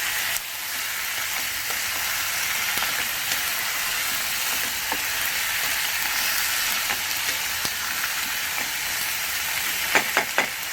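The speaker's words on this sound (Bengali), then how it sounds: "এবার আলুটাও দিয়ে দিলাম ভালো করে ভাজবো এটাকে" Steady oil sizzle of potatoes frying in a pan, continuous and fairly loud, with a few sharper pops and crackles near the end.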